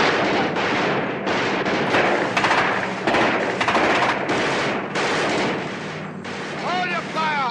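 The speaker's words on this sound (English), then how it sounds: "All right, boys, they're firing at us. Let them have it." Gunfire from a boat during a naval battle: heavy, loud, dense volleys of rapid shots and booming blasts, nearly continuous. A whistling tone rises and falls near the end.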